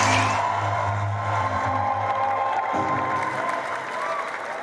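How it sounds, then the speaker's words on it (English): An audience at a wealth summit claps and cheers loudly, a dense wash of applause that stays steady throughout. "Please keep clapping."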